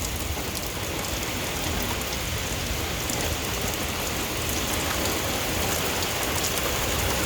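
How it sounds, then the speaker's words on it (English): Heavy rain pours down steadily during a severe thunderstorm, a dense, constant roar of drops hammering surfaces nearby, loud and unbroken with no talk. "I think it's raining a little too hard now."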